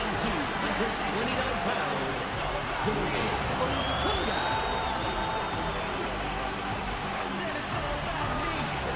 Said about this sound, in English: What an ovation!